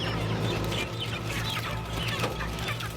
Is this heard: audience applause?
no